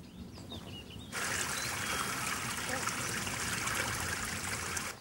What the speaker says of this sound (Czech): Pusťte vodu.